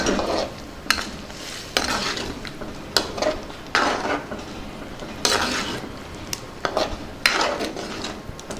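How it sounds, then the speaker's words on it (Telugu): A spoon stirs paneer pieces through green pea curry in a pot, giving repeated scraping and clinking strokes at an uneven rhythm, close and fairly loud, with no voices. "ఇందులోనే పన్నీర్ ముక్కలు వేసుకుందాం ఒకసారి కలుపుకుందాం"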